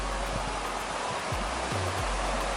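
Broad, steady rushing of river water flowing at a hidden river on a Jamaican off-grid farm, constant and close with low thumps of handling noise underneath and no talking.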